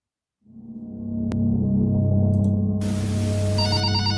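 A telephone rings in a video game night, a sustained electronic ring with a steady tone and buzzing overtones that starts after a short silence and holds loud and continuous.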